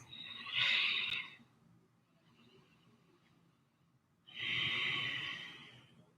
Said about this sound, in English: Holding for 3 deep breaths.